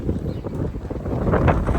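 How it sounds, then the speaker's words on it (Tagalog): Strong outdoor wind gusts buffet the microphone in low, rumbling surges that swell louder toward the end. "So ito raw yung regular na hangin dito."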